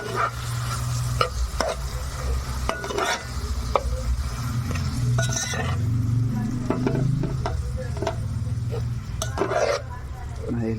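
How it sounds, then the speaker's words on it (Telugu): Tomatoes stirred into a curry in a pan, a steady sizzle of frying with repeated scraping and stirring clinks of a utensil against the pan throughout, close and moderately loud. "టమాటా వేసిన కలబెట్టుకుని"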